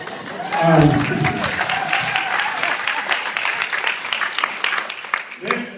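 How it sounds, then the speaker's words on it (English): Audience applause at a Jewish comedy show breaks out after a joke, with a brief vocal cheer near the start, then steady clapping continuing while a voice speaks faintly underneath. "I'll take an applause break, absolutely."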